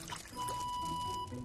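Water is poured onto a fire in a short, steady gush lasting about a second, moderately close and heard over a faint tonal background.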